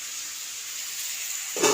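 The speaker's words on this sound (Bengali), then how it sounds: "লাউ ভাজছি" Bottle gourd frying in a pan makes a steady, soft hiss of oil, with a slight swell of stirring near the end.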